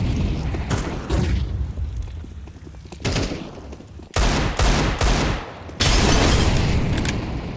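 Gunfire, a Molotov and a grenade in Counter-Strike 2 during a collegiate match, loud dense bursts of shots and booms with short gaps between them, heavy and close.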